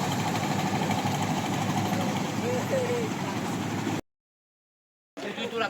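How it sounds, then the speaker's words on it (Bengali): A motorboat engine drones steadily and loudly on Kaptai Lake in Rangamati, cutting out abruptly for about a second before resuming. "এখানের এই নৌকার শব্দই সারাদিন আমাদের কানে বাজতে থাকে"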